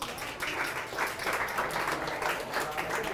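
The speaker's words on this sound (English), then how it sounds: "so give them a nice round of applause" An audience at an evening event applauds, a sustained wash of many hands clapping at moderate distance, rising and falling slightly in waves.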